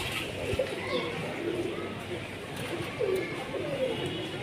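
A domestic pigeon, one of a fancy-breed flock, gives several soft rolling coos close by, spaced a couple of seconds apart over a low background hum, while someone talks over them.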